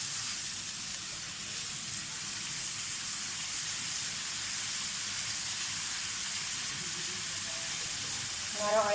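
Onion puree in hot oil, prepared for an egg curry, gives off a steady, even sizzling hiss that continues unbroken for several seconds, with a faint crackle near the end.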